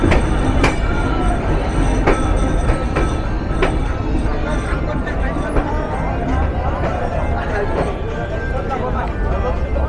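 The Madhumati Express runs on at night, its wheels clattering and rumbling in a continuous roar with a few sharp clicks and squeals, and voices can be heard over the rail noise.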